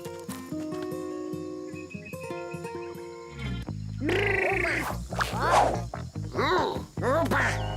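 Quacky, warbling croaks repeat over a music bed, several calls in quick succession, fairly close and prominent.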